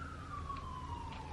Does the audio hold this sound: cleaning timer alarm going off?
no